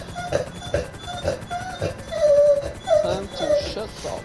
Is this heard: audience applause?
no